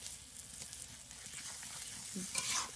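A spoon works through a pan of fish curry with eggplant, potato and taro as it fries in spices. Soft, close scraping and stirring sits over a low, even sizzle.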